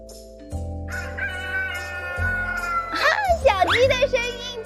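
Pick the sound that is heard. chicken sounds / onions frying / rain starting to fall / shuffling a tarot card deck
chicken sounds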